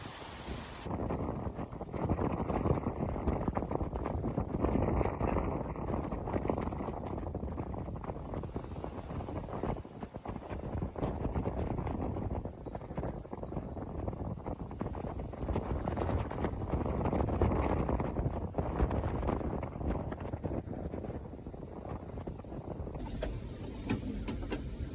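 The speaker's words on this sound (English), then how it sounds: "This is what it's like in these massive waves with just the staysail." Sailboat running under staysail alone through massive waves, with strong wind buffeting the microphone and rushing water loud and continuous throughout, surging and easing with the swells.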